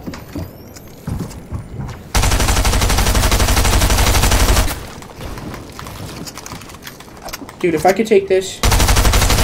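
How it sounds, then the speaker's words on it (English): Stinger SMG fire in a video game, long loud bursts of rapid automatic shots with short pauses between, while a player talks in between bursts. "The Stinger SMG."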